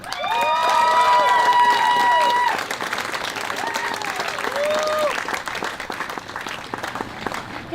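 A large outdoor rally crowd at the March for the Babies in Australia claps and cheers loudly, with whistles and shouts rising over dense applause that stays strong for several seconds before gradually thinning out.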